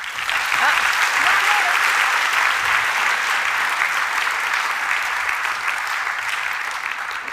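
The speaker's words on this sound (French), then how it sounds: "je pense qu'on peut applaudir Julie pour l'accueillir" Steady, sustained applause from a conference audience fills a plenary session hall as a speaker is welcomed, with dense, even clapping that slowly tapers toward the end.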